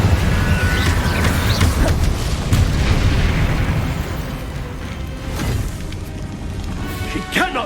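Incendio fire spells blast in the video game Hogwarts Legacy, heavy booming bursts that roll on, with a few sharper hits over a loud, constant din.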